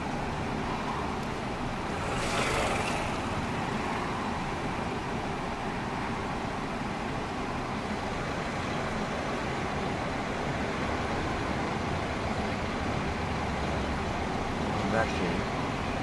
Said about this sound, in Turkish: Bence trafik tıkalı.